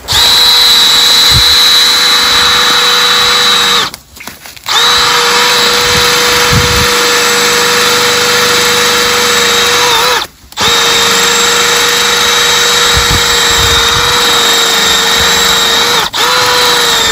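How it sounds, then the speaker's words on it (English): A loud power drill whines steadily as it bores a hole through ice in cattails, stopping briefly twice before starting again. "So we're just going to drill a hole in the ice."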